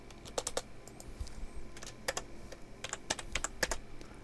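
Bursts of keystrokes on a computer keyboard, typed in short irregular clusters with brief pauses, close and fairly quiet over a low steady room hum, with no talking.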